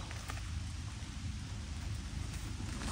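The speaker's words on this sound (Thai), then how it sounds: "ตอนนี้ฝนตกแล้วพี่น้อง" Steady, dense rain falls in a forest during a mushroom-picking outing, with a low rumble of thunder rolling underneath, continuous and fairly loud, with no talking.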